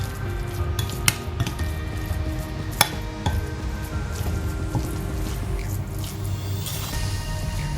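Chicken being mixed by hand with soy sauce, vinegar, pepper powder and salt, giving soft wet squishes and occasional light clinks against a bowl, steady and close.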